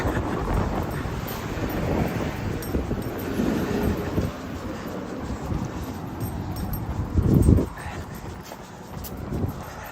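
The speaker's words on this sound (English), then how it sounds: "Then there's a wind." Wind gusts buffet the microphone outdoors on a cold morning run at about 37 degrees, a rough, rumbling roar that swells and peaks briefly, with faint talk mixed in.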